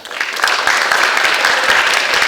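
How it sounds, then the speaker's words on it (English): Students at a school cap and gown assembly applaud, a dense, steady burst of clapping from a large crowd in a hall that rises quickly and holds throughout. "Give yourselves a big round of applause."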